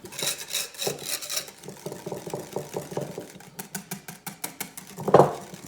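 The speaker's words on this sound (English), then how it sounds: "you whisk a little bit your egg yolk, sugar and mascarpone, so that doesn't make any big lump." Egg yolk, sugar and mascarpone whisked together in a bowl for tiramisu, a steady rapid scraping and tapping rhythm close by, with a louder clack near the end.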